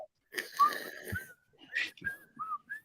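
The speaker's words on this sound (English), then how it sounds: "I whistled something he doesn't even know about" Someone whistles a short tune in broken bursts of rising and sliding notes, close and fairly clear, during a live betting stream of a Buffalo Bills vs New York Jets NFL game.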